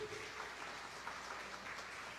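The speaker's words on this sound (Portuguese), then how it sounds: "vocês têm que aplaudir Jesus" A church congregation claps faintly and steadily during a sermon, a soft continuous patter of applause heard at a distance.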